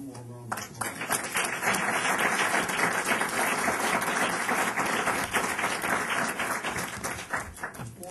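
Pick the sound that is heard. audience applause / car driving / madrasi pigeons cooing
audience applause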